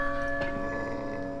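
A ringing church bell in Resident Evil 4 hums with steady, sustained tones after a single faint strike, sounding somewhat distant and soft.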